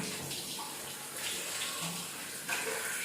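Tap water runs into a sink while someone washes their face at home, a faint, steady splashing stream with small changes in the flow.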